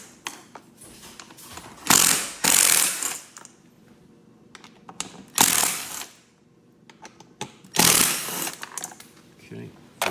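Driver turning out T27 seat base bolts on a Polaris General, with several loud ratcheting bursts separated by quiet pauses, close and mechanical.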